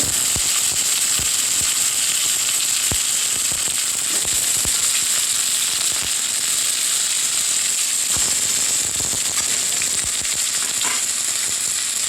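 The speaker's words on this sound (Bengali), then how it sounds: "এবার আমি আলু ভাজছি।" Potatoes frying in a pan of hot oil, a loud, dense sizzle crowded with sharp crackling pops that fire irregularly throughout, close and continuous.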